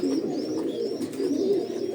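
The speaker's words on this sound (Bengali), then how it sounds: "দেখেন একটা শর্ট পেস কবুতর" Short face pigeons coo steadily in a loft, several birds overlapping in a continuous, close, fairly loud low warbling murmur with faint higher chirps above.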